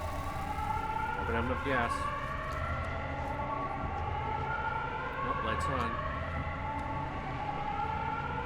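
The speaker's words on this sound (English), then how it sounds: "I don't know what that siren is." A sustained wailing siren from the video game Pacific Drive rises and falls in long harmonic sweeps, holding steady through the clip beneath a person's talking.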